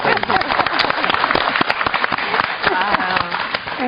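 Steady applause from a crowd, dense overlapping claps filling the space at a loud, even level with voices mixed in underneath.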